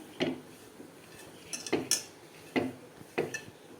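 Spoon stirring and mixing aloo paratha dough ingredients with chilli powder and salt in a metal bowl, several distinct clinks and scrapes in irregular bursts, close and fairly quiet, no talking.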